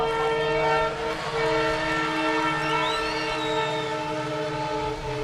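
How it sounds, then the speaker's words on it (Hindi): A train rumbles past nearby with a long, loud, steady roar and a sustained horn blast throughout, rail clatter underneath, during an outdoor poetry gathering. "उस समय भी ये ट्रेन आ गई थी"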